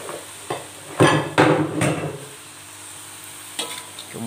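Rice vermicelli is stir-fried with wilted vegetables in a wok, with several clattering scrapes and stirring knocks of a utensil against the pan over a faint sizzle, close and irregular.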